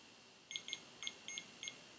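A REM pod temperature sensor alarm in another room gives five short paired electronic beeps at a steady pace, faint and distant, with no voices.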